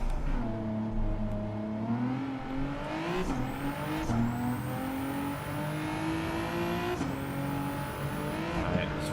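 A car in Gran Turismo 7 swings through a tight hairpin under handbrake. The engine revs rise and fall with gear changes, and faint tyre squeal runs steadily throughout.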